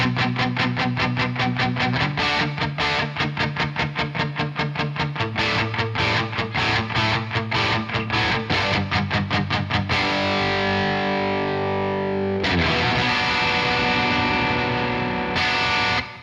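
A Fazley Outlaw Sheriff Plus HH electric guitar plays heavy, palm-muted rhythm riffs through thick distortion, with chugging chords and sustained notes, loud and close.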